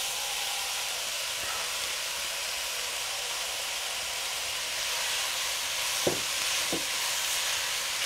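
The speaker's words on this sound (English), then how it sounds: "Get the meat going, and now we're going to add 2 onions chopped up" Ground turkey and chopped onions cook in olive oil for chili, giving a steady broadband hiss of frying throughout, with a couple of brief scraping stirs near the end.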